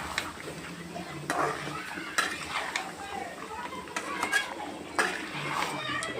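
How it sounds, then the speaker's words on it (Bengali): Chicken for biryani stirred in a pan, with metal spoon scrapes and clinks against the pan over a soft sizzle, close up, with occasional talk in the background. "এবারে আমি ভালোভাবে নেড়ে নেব।"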